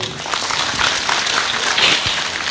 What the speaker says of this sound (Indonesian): tepuk tangan kagem Mbah Kung